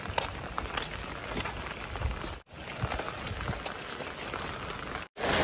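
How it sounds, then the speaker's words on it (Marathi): Rain falling steadily outdoors in a heavy downpour, a soft continuous patter with scattered drop hits and two brief cutouts, no speech. "पाऊस येतोय, थोडासा पाऊस कमी होईल वाटलं पण नाही झाला शेवटी"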